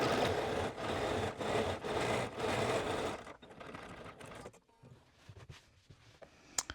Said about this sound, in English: just top stitching that in place